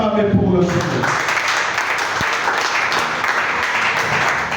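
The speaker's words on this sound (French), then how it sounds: "Est-ce que tu peux acclamer pour le Seigneur?" A church congregation applauds and cheers in praise of the Lord, a dense, steady wash of clapping and voices sustained throughout, loud and close.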